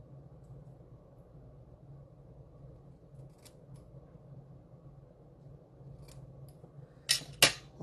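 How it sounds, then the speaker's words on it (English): Two quick scissor snips cut through a length of craft ribbon near the end, sharp and close, following a stretch of quiet low room hum. "I'm going to cut this ribbon down"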